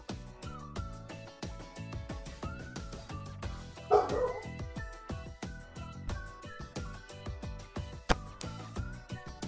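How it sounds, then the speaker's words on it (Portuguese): A dog barks and yips repeatedly in a rapid, uneven series, moderately faint, as if from another part of the house, with no talking over it. "Ó o cachorro, me perdoem"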